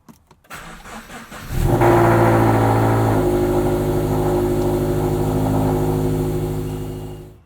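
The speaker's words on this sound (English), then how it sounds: "Cold start." A Subaru BRZ with an FT86 catted header cold-starts: a cranking starter, a sharp catch and rev flare, then a loud, steady high idle that slowly settles.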